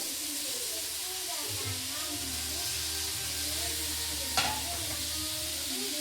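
Tomatoes frying in a pan for mutton sukka give a steady soft sizzle and hiss, with a brief stir or clatter near the end and some low background noise.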